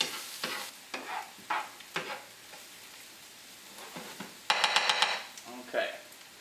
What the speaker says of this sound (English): constantly stirring, incorporating air into it, and that will make a nice creamy risotto